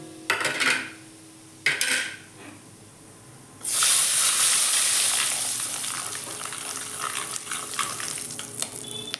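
Ground spices (turmeric, coriander powder and garam masala) hit hot oil in a pan for masala matar paneer, a sudden loud sizzle that settles into a steady frying hiss, after a few brief clatters of a spoon against the pan.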